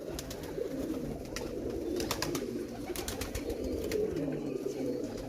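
Several pigeons keep up a continuous low cooing nearby, layered with sharp intermittent clicks and brief rustling, with no speech.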